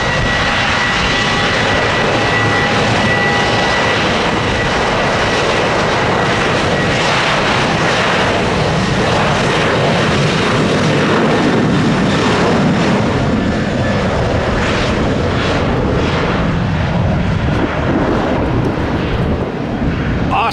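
A Southwest airliner takes off from runway 1 right, its jet engines roaring loud and broadband for the full stretch, with the rumble shifting slightly as the plane climbs away in a hurry.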